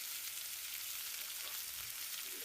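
Alu vadi rolls deep-fry in hot oil in a wok, giving a continuous, even sizzle with fine crackling, quiet and steady, with nobody talking.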